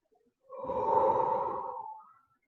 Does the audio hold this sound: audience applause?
no